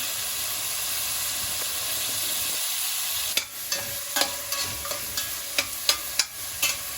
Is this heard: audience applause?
no